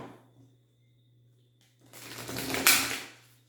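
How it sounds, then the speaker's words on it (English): Tarot cards riffle and rustle in one brisk shuffle of about a second, close to the microphone, after a faint voice and a quiet pause. "Let me shuffle these."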